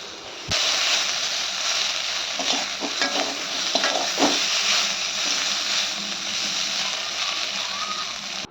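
Okra curry with spices stirred in a hot pan, a steady sizzling hiss throughout with scraping spoon strokes in the first few seconds, close and fairly loud.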